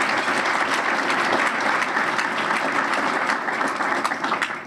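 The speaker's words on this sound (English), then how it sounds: "let's big round of applause for all our sponsors" Steady, dense applause from a luncheon audience at a South Boston Boys & Girls Club St. Patrick's Day event, honoring the sponsors; a full room claps continuously and loudly, fading slightly at the end.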